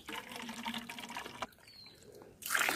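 Water from a mountain spring trickles and splashes into a container, a soft steady flow that pauses briefly before a louder rushing pour at the end.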